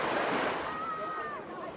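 Waves wash onto the beach at Playa Norte on Isla Mujeres off the coast of Cancun, a broad steady surf roar with some wind, close and continuous.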